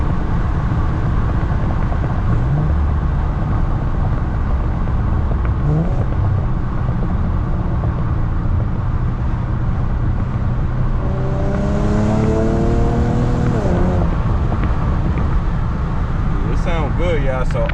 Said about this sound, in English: See how the downshift sounds.